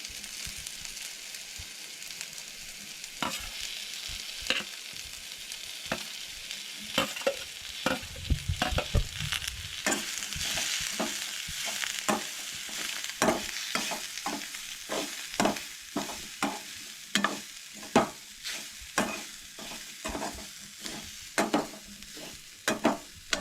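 Grated coconut being dry-roasted in a pan for a Goan clams masala gives a soft continuous sizzle, with a repeated close scraping of the spoon stirring at a steady rhythm.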